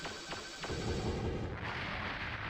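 Automated turrets fire in an Armored Core mech video game: a couple of sharp distant shots give way to a steady rumbling barrage, all fairly faint.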